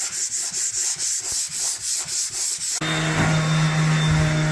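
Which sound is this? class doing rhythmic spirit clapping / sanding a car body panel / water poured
sanding a car body panel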